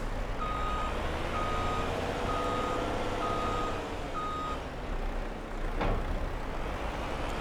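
A vehicle in Farming Simulator 22 backs up to a grain trailer, sounding a steady series of evenly spaced reversing beeps over a low, rumbling engine. A brief clunk follows near the end, and no one speaks.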